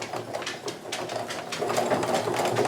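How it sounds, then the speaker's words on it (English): A sewing machine stitches the edge of a makeup bag along its turning opening, a steady, close, fairly quiet run of rapid needle strokes that continues without pause and with no talking. "And then stitching as close to that opening as I can. I'm just sewing right along it."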